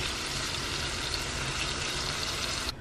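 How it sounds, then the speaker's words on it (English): Sausage and eggs fry in a pan at home with a steady, dense sizzling hiss that holds close and even throughout, then drops off abruptly at the very end. "There's our sausage, and we got our eggs cooking"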